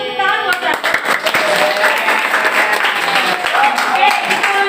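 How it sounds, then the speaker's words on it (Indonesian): Classroom students clapping together for a classmate, a brisk burst of scattered hand claps with voices mixed in, close and fairly loud throughout. "Kasih tepuk tangan buat Tadu."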